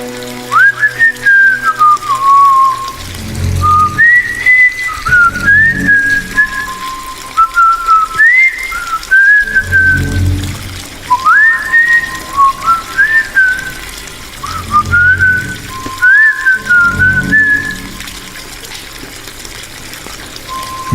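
Someone in a bathroom hums a wandering melodic tune in short phrases while water pours steadily into a bucket beneath, the voice fairly close and the running water constant.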